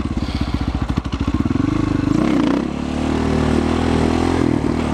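Motorcycle engine close by, starting with a rapid thumping idle pulse, then climbing into a loud sustained rev that wavers and settles into a steady high drone, with no voices.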